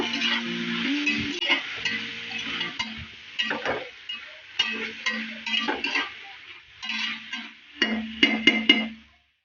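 A mushroom biryani mixture with coriander leaves is stirred in a pot, with repeated scraping and clinking strokes over a light sizzle, several bursts up close, plus a brief steady tone near the start.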